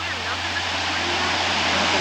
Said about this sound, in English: this is a waterfall, and as you can see, the covered bridge